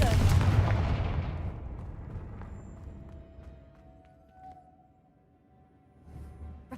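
Confringo fire spell blasting in the video game Hogwarts Legacy, a loud burst at the start that fades into a lingering rumbling tail, then quieter ambient game sounds with a soft swell at the end.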